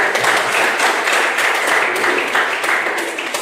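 Audience clapping in a classroom session before group presentations, a dense steady patter of many hands for a few seconds, fairly close and without speech.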